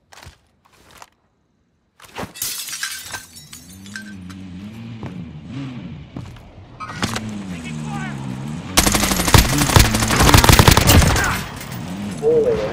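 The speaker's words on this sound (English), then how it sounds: "Comes a vehicle." Vehicle engine rising and falling as it approaches in a sniper video game, with rapid bursts of gunfire growing into a loud, dense fusillade near the end.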